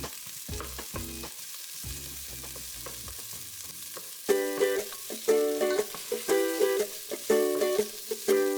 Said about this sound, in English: Now that the onions are nice and sauteed